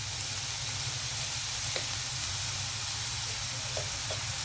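Onions frying in a pan for bhindi masala curry, a steady close sizzle and hiss throughout, with a few faint clicks of stirring.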